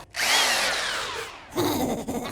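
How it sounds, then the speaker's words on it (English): A power drill whirs in two close bursts, the first pitch sliding down as it bites in, the second rougher and more strained. "Just drill it in the fucking head!"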